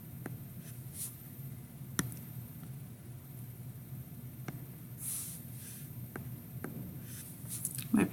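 A pen scratches on paper while math problems are worked by hand. It makes faint, soft strokes and light taps with occasional clicks over quiet room noise.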